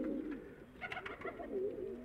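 Pigeons in a loft, nearby soft, low cooing calls repeating in a gentle rolling rhythm, with a faint background hum.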